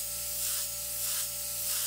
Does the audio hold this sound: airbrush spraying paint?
yes